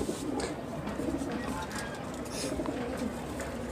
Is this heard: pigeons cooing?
yes